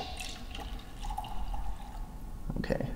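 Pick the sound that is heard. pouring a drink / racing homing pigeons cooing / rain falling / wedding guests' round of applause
pouring a drink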